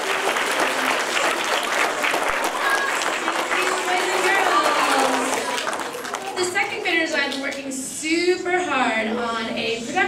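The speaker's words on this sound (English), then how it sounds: "let's give a big round of applause to our second graders" A school audience applauds second graders before their play, a loud steady burst of clapping filling the room, thinning toward the end as excited children's voices and chatter rise over it.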